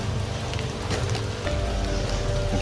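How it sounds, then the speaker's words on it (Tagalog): Rain falls steadily outdoors as a dense, even hiss of drops on surfaces, loud and continuous, with no talk. "lalakas pa tong ulan, baka mababasa tayo"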